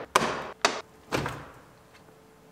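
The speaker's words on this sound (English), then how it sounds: "A little wiggle and pull and our door panel comes off." Trim clips snap loose as a door panel is wiggled and pulled off a Lexus IS 250: three sharp, close pops in quick succession, then a fading rustle of the panel.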